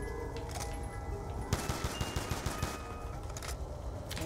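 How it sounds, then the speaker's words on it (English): Shotgun blasts in Nuketown Zombies, a rapid run of sharp, punchy shots firing in quick succession over a dense, constant game soundscape of music and effects. "did I just take two shotguns? Yes, I did. And they both sound the exact same"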